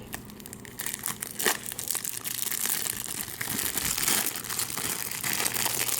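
Plastic wrapping around a strawberry-scented wax melt crinkles and crackles close up as it is pulled open, a steady rustle that runs through the whole stretch.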